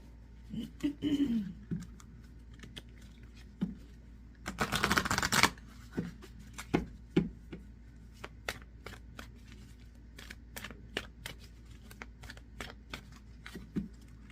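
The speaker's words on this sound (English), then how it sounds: "let's pull some more cards" Oracle cards being shuffled and handled: soft riffling and a dense flurry of card slaps, followed by a run of quiet, separate taps and clicks as cards are set down.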